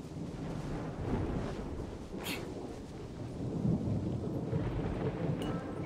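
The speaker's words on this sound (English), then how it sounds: "The thunder drowns out all other sounds" Thunderstorm in Genshin Impact: a low, rolling rumble of thunder with a hiss of rain, a couple of sharp cracks standing out over the steady wash, moderately faint and with no voices.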